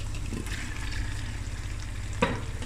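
Potatoes going into a pot of simmering mutton curry, with a steady soft sizzle and bubbling throughout and a brief clunk near the end as something drops in, without talk.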